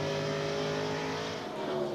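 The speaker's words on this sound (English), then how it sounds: "You got two cars running side by side here, the 99 and the 10." NASCAR race cars run side by side in the 2003 Subway 400, a loud sustained engine roar with steady harmonic whine, heard from a distance with no talk.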